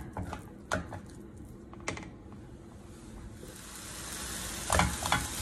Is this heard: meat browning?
yes